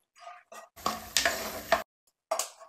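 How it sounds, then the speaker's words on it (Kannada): Peanuts fry and sizzle in hot oil in a pan, with short stirring scrapes and then a loud crackling sizzle that stops and resumes, close and without talking. "ಚೆನ್ನಾಗಿ ಎಲ್ಲ ಫ್ರೈ ಆಗಲಿ ಕಡಲೆ ಬೀಜ"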